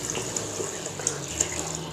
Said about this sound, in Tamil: நம்ம எடுத்து வச்சுருக்கிற தண்ணி ஊற்றிடலாம்.